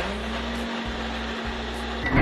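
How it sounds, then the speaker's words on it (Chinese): Food processor mincing lean pork into a fine paste, giving a steady whirring motor hum with a low tone, brief dips and thumps, and a louder rise at the end. "还有一点瘦肉，给它打成肉末"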